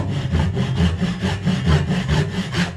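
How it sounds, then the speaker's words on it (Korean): A hand saw cuts through a wooden joint member for a carpentry exam piece, working from both sides: steady, rhythmic back-and-forth rasping strokes, close and loud, with no talking. "저는 양면에서 자를 겁니다. 양쪽에서."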